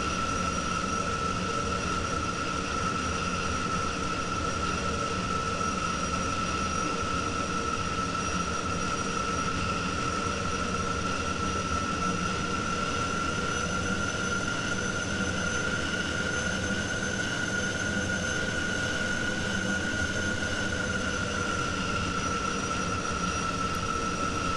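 Aircraft taxiing in the Falcon flight simulator game: a steady, loud engine whine with strong sustained high tones over a broad rumble, unchanging throughout, with no talk.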